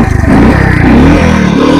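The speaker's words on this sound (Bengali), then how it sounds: "ফাইনালি কিন্তু বাইকটা স্টার্ট দিতে পারলাম।" A homemade motorbike running on petrol and LPG starts with a few quick sputtering pulses, then settles into a loud, close, steady engine idle with slight revving.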